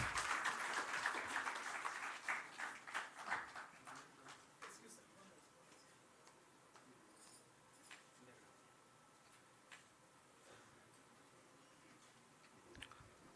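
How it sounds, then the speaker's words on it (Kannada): Faint applause at the launch of a U Digital OTT and IPTV service, starting as a brief dense burst that quickly fades into scattered individual claps and quiet ticks. "ಜೋರಾದ ಚಪ್ಪಾಳೆ ಬರಲಿ ಈ ಹೊಸ ಆವಿಷ್ಕಾರಕ್ಕೆ"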